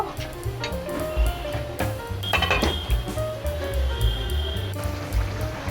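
A metal lid is set back over a pan of simmering cabbage, with a few sharp clinks and clatters close by against a steady kitchen background.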